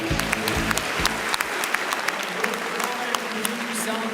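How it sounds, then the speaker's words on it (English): A keynote audience gives a round of applause for the nominees and winners: dense, sustained clapping from a large crowd, with a few louder claps standing out. "round of applause."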